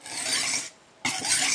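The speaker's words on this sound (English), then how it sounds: "this side will go down at the 30-degree angle to the sharpening stone" Knife blade drawn across a sharpening stone at a 30-degree angle, two loud, close, gritty scraping strokes separated by a brief pause, with no talking.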